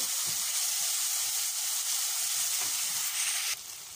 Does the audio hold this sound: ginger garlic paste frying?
yes